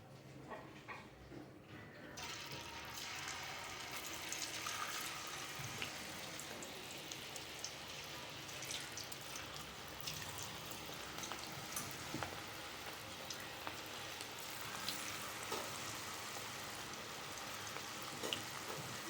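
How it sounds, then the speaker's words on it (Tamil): Snake gourd rings frying in well-heated oil in a home kitchen, a continuous bright sizzle and crackle with scattered pops, beginning more faintly and growing fuller after the first couple of seconds, steady throughout. "இதுக்கு தேவையான அளவு ஆயில் ஊற்றி நல்லா ஹீட் பண்ணியாச்சு. இப்போ இதில் ஒன்றுனா இந்த ஆயிலில் போட்டுக்கலாம்."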